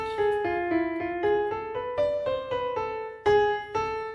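Part of Bella Ciao played on a keyboard in a piano voice: a bright stepping melody of about a dozen even notes over sustained tones, close and clear with no voices.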